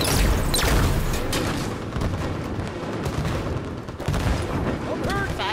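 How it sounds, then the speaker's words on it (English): Rapid light-rifle shots crack and boom through a busy Warzone firefight, loud and continuous with dense overlapping reports and some voice underneath. "Trying to put light rifle shots on everybody over here."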